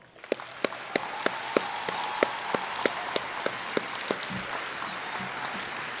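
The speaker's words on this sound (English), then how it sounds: "join me in giving them a round of applause" Crowd applause at a US Air Force basic military training graduation ceremony, a dense steady wash of clapping from a large audience outdoors, with a regular series of sharp percussive hits sounding through it.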